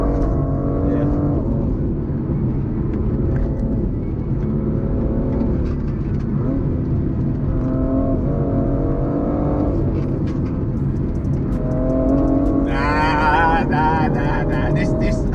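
A BMW M2 is driven flat out, its engine roaring steadily with repeated revving climbs and gear changes, heard from inside the car while people talk over it throughout.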